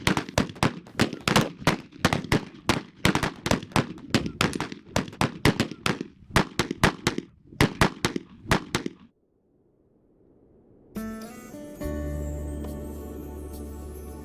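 Rapid gunshots crack out in a western film shootout, a dense close volley of sharp bangs lasting several seconds before falling silent, followed by music swelling in.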